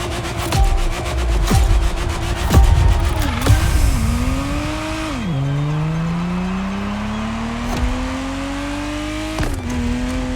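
Ferrari Testarossa flat-twelve engine in the racing game The Crew Motorfest, revving and shifting through gears with rising and falling pitch, sharp tire chirps and clicks, loud and close with no talk.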